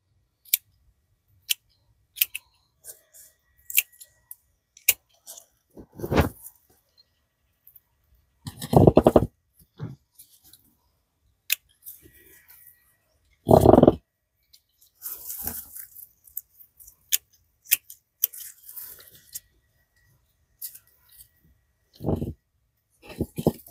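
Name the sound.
cutting back overhanging petunias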